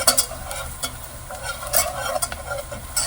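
Flour cooking in butter in a pan and being stirred, a loud close sizzle with repeated scraping strokes of the utensil, no talking.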